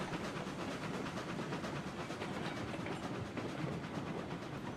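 A train rolls past in the railroad video game Railroads Online, a steady dense rumble with rhythmic clickety-clack and a faint hiss that stays continuous and fairly close throughout.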